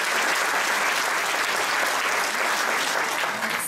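Dense, even applause fills a hall at an awards ceremony, loud and sustained from start to finish with no voices over it.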